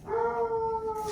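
A dog howls in one long, steady, tonal wail, moderately close and clear, with no talking over it.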